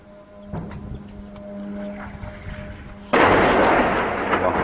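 An artillery shell falls and explodes in Ar Rastan, Homs: after a few seconds of quiet outdoor background, a sudden loud, broad blast erupts and rumbles on until the end.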